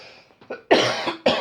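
A few small throat sounds lead into two sharp, loud coughs close to the listener, separated by a brief pause.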